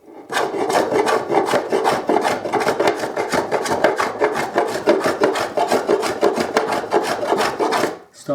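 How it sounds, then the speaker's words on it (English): A hand plane used like a scrub plane takes fast, rough cuts across the grain of an archtop guitar's carved wood. Rapid, even rasping strokes repeat up close, about four each second, with no talking. "this one kind of acts a bit like a scrub plane. It removes wood quite quickly"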